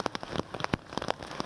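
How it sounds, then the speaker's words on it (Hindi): Steady rain falling in Prayagraj, with a dense, continuous patter of drops striking surfaces close by and no voices. "आज सुबह से ही यहाँ लगातार बारिश हो रही है।"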